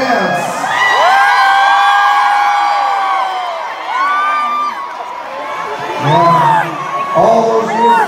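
A large concert crowd cheers and screams loudly and continuously, with high-pitched shrieks and whoops rising and falling throughout.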